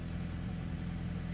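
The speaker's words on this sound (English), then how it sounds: "listening to the exhaust here, it's got just a good solid note to it" A Toyota Celica engine idles steadily with a low, even exhaust rumble, close by and constant throughout.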